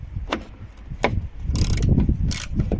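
A ratchet undoing a Torx T27 screw on the windscreen wiper mechanism of a Ford C-Max, a few sharp clicks followed by a denser burst of rapid ratcheting, close and fairly loud.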